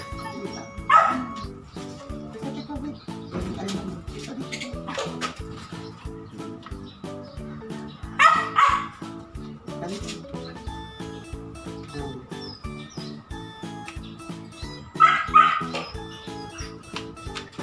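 A pet dog gives three short bursts of barks and yips, spaced several seconds apart, over a low room hum, with a quiet voice in between.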